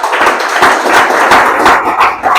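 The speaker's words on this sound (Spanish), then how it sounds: "Denle un aplauso al Señor." A church congregation claps together in sustained, dense applause, a steady wash of many hands with brief swells, filling the space at close range.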